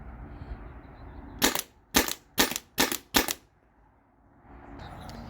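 A modified Byrna TCR launcher fires five sharp, evenly spaced shots in quick succession, loud and close against a quiet outdoor background.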